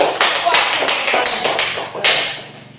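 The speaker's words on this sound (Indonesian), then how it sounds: "tepuk tangan untuk Unan" Classroom clapping for a student, a dense burst of many hands with sharp taps over roughly two and a half seconds, fading near the end, with voices mixed in underneath.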